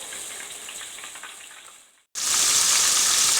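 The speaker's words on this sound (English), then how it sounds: "so you guys can see how this chicken is sizzling" Steady crackling sizzle of chicken deep frying in hot oil, dipping briefly to near silence, then returning louder and closer.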